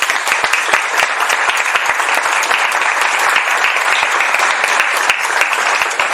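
Loud, close applause from a conference audience during the closing session of a diabetes event in Dublin, dense steady clapping with sharp individual claps throughout.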